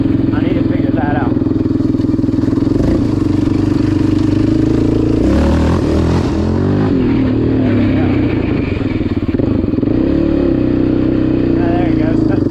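A 2006 Yamaha Raptor 700 ATV engine revs loud and close with wheels spinning, a steady rough drone that surges and dips around the middle before settling; voices are faintly present.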